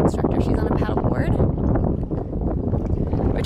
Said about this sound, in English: I'm sorry in advance if you guys can't hear me because of the wind